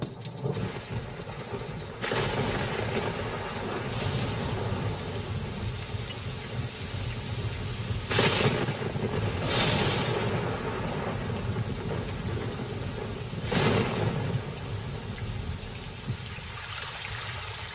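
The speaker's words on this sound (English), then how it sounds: "But now a tremendous storm is brewing." A thunderstorm with heavy rain over the dry Kalahari: steady rain hiss throughout, broken by several loud thunder cracks and rumbles spaced a few seconds apart.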